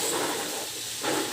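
Chicken sautéing in sesame oil in a tawa pan, a steady broad sizzling hiss that swells slightly near the end, close by and with no talk.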